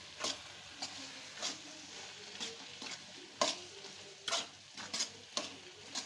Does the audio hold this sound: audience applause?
no